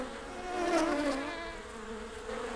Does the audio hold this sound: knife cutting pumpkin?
no